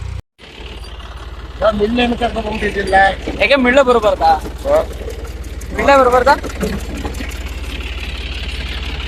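A tractor engine idles in a steady low rumble throughout, close by, while people talk over it.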